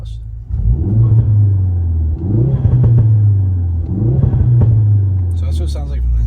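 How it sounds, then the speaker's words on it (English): Deep exhaust drone of a Ford Fiesta ST heard from inside the cabin, rising and falling through three revs that swell and ease back, loud and steady, with no talking. "we'll hear the inside sounds from the exhaust"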